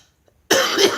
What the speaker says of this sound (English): I get so tired of clearing my throat.